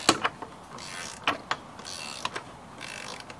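A ratchet works a threaded bolt on a 1986-89 Honda Accord transmission, giving a series of short clicking and ratcheting bursts at an uneven pace, close by and fairly loud.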